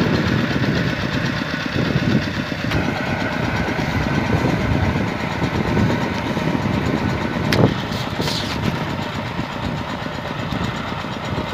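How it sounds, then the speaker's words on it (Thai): A small Kubota crawler tractor's engine runs continuously in a rice field, a steady, fairly close rumbling drone with a faint knocking texture and no pauses. "อันนี้เป็นรถไถคูโบต้าคันเล็กใช้ตีนตะขาบนะครับ"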